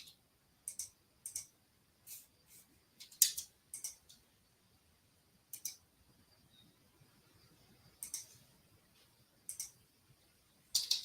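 Sparse, irregular clicks of keys tapped on a computer keyboard, short isolated bursts separated by quiet gaps, close and fairly soft, no speech.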